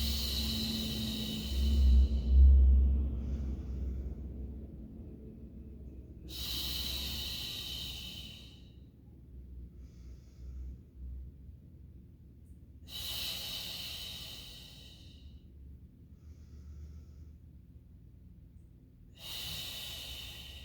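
Slow, deep breaths during a Pilates mat class: four long airy inhales and exhales spaced several seconds apart, close and soft with quiet stretches between them.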